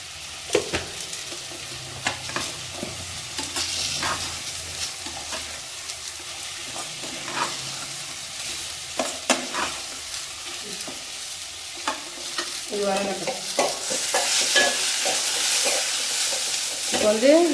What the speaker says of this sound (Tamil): இஞ்சி போட்டு வதங்கிடுச்சு தக்காளி போட்டுக்கலாம்